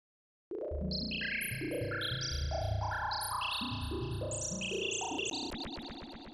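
Bright, chirpy Serum synthesizer notes with sine-like FM tones, stepping up and down in a quick arpeggiated pattern with a swirling keytracked flanger shimmer.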